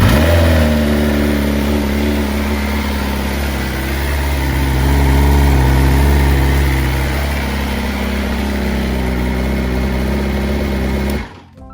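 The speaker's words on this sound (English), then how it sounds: "So I'll fire it up real fast here. You'll hear how the exhaust sounds" Stock 2020 BMW S1000RR motorcycle fires up and settles into a loud, steady idle close by, with a light swell in revs partway through before the engine cuts off abruptly.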